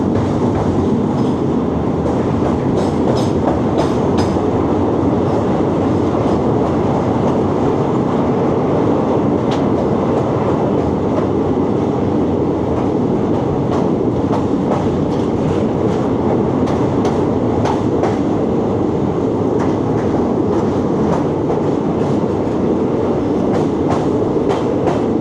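Teesta Torsa Express passenger train running from New Jalpaiguri toward Kolkata, a loud continuous rumble from on board with repeated rhythmic wheel clicks over rail joints.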